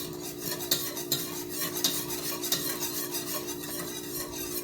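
A utensil stirs sweetened condensed milk in a pot over medium-high heat, a continuous scraping swirl with several sharp clinks against the pot and a faint sizzle underneath; no voices.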